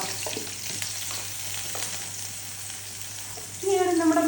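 Onions and chillies sizzle and crackle steadily in hot oil for a tempering, a close, continuous fry that swells louder near the end as something more is stirred into the pan.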